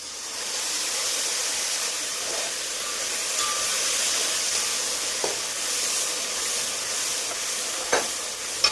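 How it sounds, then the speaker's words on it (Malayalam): Pork fat added to softened onions sizzles in a pan for a jackfruit curry, a continuous even hiss with a few light utensil taps near the end. "ഞാൻ കുറച്ച് ഇറച്ചിയല്ല, പോർക്കിൻ്റെ നെയ്യാണ് ഒഴിച്ചു കൊടുക്കുന്നത്"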